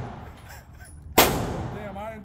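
A single loud LWRC rifle shot at an outdoor gun range cracks sharply partway through, with a decaying tail after it and faint background voices before.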